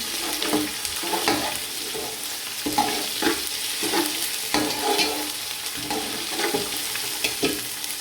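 Lamb and rice pilau being stirred in a pot, with repeated scraping strokes of a spoon over a soft continuous sizzle, close and fairly loud, no talking.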